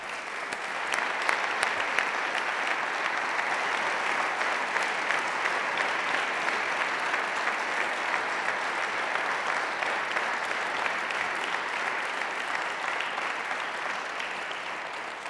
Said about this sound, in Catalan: tornaria a demanar un altre aplaudiment per ell